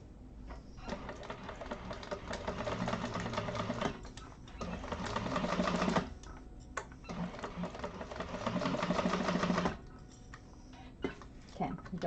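A sewing machine stitching a wallet in three long, steady runs of rapid whirring with short pauses and clicks between them, close and fairly loud, with a person talking in between.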